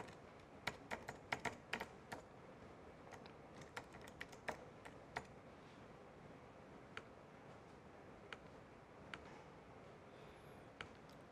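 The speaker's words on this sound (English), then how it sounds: "I'll input my credentials here." Quiet clicking of computer keyboard keys, bursts of fast typing followed by sparse single taps, close and soft over a faint room hiss.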